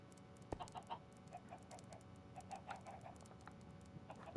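Chickens in the video game Minecraft clucking in a fenced, roofed pen, a run of short, evenly spaced clucks at moderate distance, with one sharp click early on and faint background hum.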